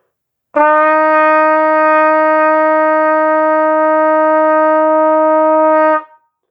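One sustained trumpet note on F, bright and even, held for roughly five seconds before cutting off.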